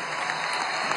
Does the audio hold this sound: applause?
yes